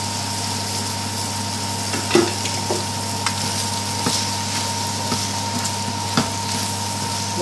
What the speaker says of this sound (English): Now slowly tip the pasta in.